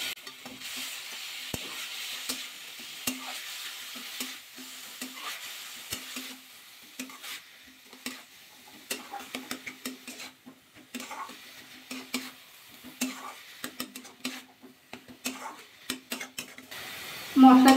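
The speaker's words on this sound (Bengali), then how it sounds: "মশলা দিয়ে বাঁধাকপিটা ভালো করে কষিয়ে নিলাম।" Cabbage sautés with spices in a pan over high heat and is stirred, with a soft sizzle beneath frequent clinks and scrapes of a spoon against the pan, close and fairly quiet.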